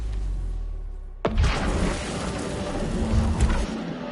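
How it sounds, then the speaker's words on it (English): Flashbang detonation in the video game Cronos: The New Dawn, a sudden loud burst about a second in after a low quiet hum, followed by a dense ringing, rumbling wash of noise that lingers to the end. "Flashbang warning."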